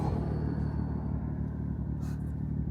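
Steady rumble of an automatic car driving along, engine and road noise continuous and fairly close with a brief hiss partway through, no talking.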